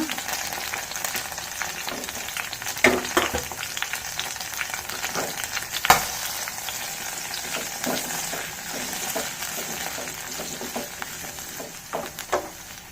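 Onion fries in hot oil in a pan for mint chutney, giving a continuous close sizzle with occasional stirring clicks and scrapes throughout, and no one speaking.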